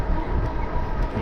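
Steady, loud rumble of trains at a station where Sprinter, Coaster, Surfliner and Metrolink trains sit together, a continuous close roar without pauses.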